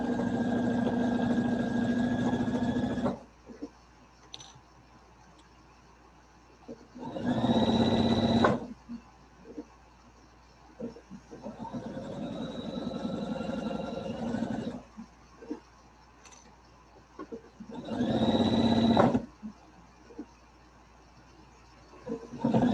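A sewing machine stitching a tote bag runs in two loud bursts, one long and one short, separated by quieter stretches with small handling sounds.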